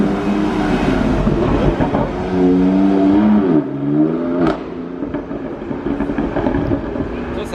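A BMW M4 sports car's engine revs up and down at the Place du Casino in Monaco, a loud rising and falling roar close by amid the crowd's background noise, with no one talking over it.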